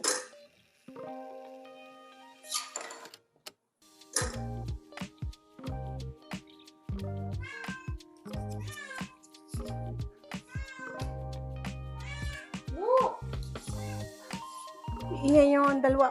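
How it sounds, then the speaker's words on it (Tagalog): A cat meows repeatedly, close and loud, in rising and falling calls during home pandesal bread making, while someone talks over and between the meows. "Iyan ang pusa nakikisabay sa record ko."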